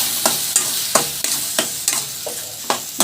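Mushroom gravy frying in a pan as a spice paste is stirred in, spoon scraping in steady repeated strokes about every half second over a continuous bright sizzle, close and fairly loud with no talking.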